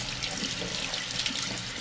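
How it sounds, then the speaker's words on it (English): Running tap water splashes steadily into a sink while quinoa is rinsed, a continuous close hiss of flowing water with no voices. "I'm going to go over to the sink with this and just really put some water on it like that"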